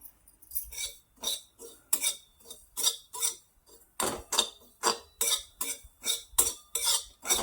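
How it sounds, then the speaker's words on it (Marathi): A spoon scrapes and stirs poppy seeds dry roasting in a small pan for carrot modak, in a steady rhythm of about a dozen close, distinct strokes with brief pauses between them and no talking. "खसखस आहे ना आपल्याला हलकीशी भाजून घ्यायची आहे"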